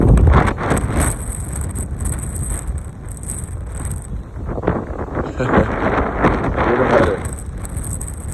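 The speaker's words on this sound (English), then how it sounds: "It's a bit fucking windy." Strong wind buffets a microphone outdoors in a steady, loud rumbling roar with gusty surges throughout.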